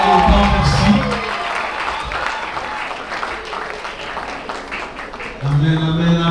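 Wedding guests applaud loudly in a sustained wash of clapping from a large crowd, with a voice talking over it.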